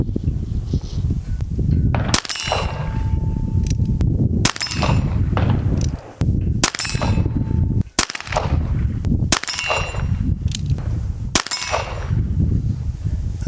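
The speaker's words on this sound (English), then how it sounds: "We've got some CCI Mini Mag 40 grain round nose, and we're just going to do some offhand" A Ruger Wrangler revolver fires CCI Mini Mag 40 grain round nose rounds offhand at 30 yards outdoors, about seven sharp cracks spaced roughly one to two seconds apart, loud and close, each followed by a brief ringing decay.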